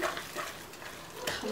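Spices being stirred into a kalinté mixture: soft scraping and swishing strokes in an uneven rhythm, faint and close, with no voices.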